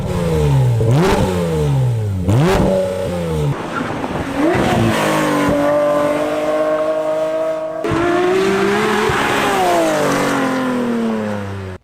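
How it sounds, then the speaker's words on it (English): Porsche GT3 fitted with a Dundon titanium center muffler with loud inserts and long tube headers with cats, revving hard and loud in repeated sharp blips that climb and fall, then holding sustained high revs, with no talking. "This is their titanium center muffler with loud inserts and their long tube headers with cats."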